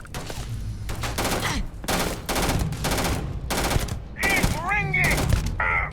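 Gunfire in the video game Starfield: repeated close, loud bursts of automatic fire in clusters, with a voice speaking between them.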